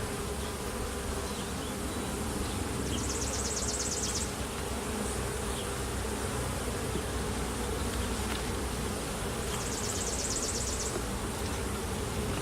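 Bees buzz in a dense, continuous drone inside a hive under inspection, close and loud, with higher insect whines rising briefly twice.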